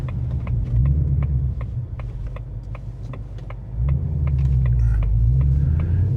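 A reworked Coyote V8 in a 2025 Ford Mustang GT with a manual gearbox rumbles steadily at close range, its low throb swelling and easing with the revs and no voices over it.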